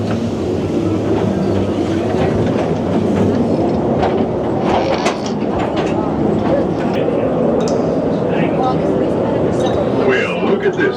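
Clattering rumble of small mine train ride cars rolling along a track at Knott's Berry Farm, steady and fairly loud, with faint voices mixed in throughout.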